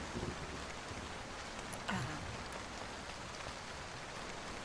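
Steady rain pours down in a horror mystery game, a near, even hiss of drops on a surface, with a faint wind-like rush and one brief soft knock, no voices.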